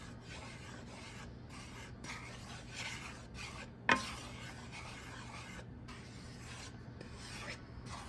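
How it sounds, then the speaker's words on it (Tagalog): Steady scraping and rasping of a utensil stirring all-purpose flour as it toasts dry in a hot pan for polvoron, continuous and close with brief pauses and one sharp knock midway. "Heat, we just need to stir constantly."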